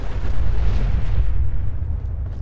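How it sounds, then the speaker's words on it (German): A car explodes in the Fallout 4 video game with a loud, heavy rumbling boom that roars for about two seconds before the upper noise thins out. "Die Karre wird explodieren."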